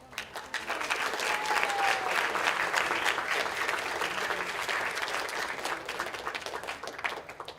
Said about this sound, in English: helped you achieve this moment with a round of applause